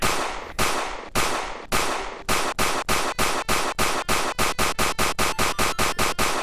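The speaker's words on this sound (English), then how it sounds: "fire 21 musket shots for the fallen" A salute of about twenty-one musket shots: sharp, loud cracks ring out alone, widely spaced at first, then quickening into a rapid, evenly paced volley.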